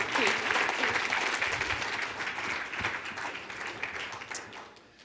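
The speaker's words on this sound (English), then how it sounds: "A round of applause." Audience applause for a finalist at the AAU Sullivan Award event, a full dense round of clapping from a crowd that holds steady, then gradually tapers off toward the end.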